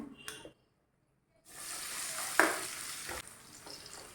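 Bitter gourd sizzles and crackles steadily as it fries in a hot pan after a brief silent pause, with a sharper burst partway through as more is added.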